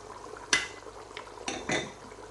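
Coriander leaves are stirred into lamb karahi in a pan, with a few sharp clinks of a utensil against the metal over a soft sizzle, the scrapes spaced irregularly.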